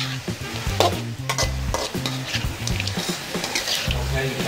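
Frog pieces fry in a pan while being stirred, giving a busy sizzle broken by repeated scraping and clattering strokes, close and fairly loud.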